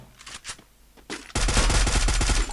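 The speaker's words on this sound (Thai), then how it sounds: "รับไม่ทันครับฝั่งนู้นยิงมา" Enemy gunfire in the video game Free Fire: a few scattered shots, then a loud, sustained automatic burst of rapid fire over the last second, with no speech.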